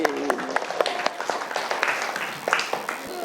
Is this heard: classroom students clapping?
yes